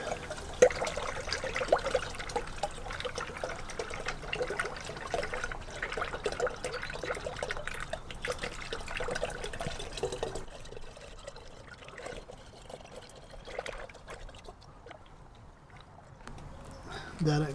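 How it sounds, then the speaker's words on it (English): A coolant mix is poured into the radiator of an 88-98 Chevy C/K1500 with a continuous liquid gurgle and trickle that eases off toward the end, under ongoing talk. "let's go ahead and put our coolant in here and fill it up with our mix"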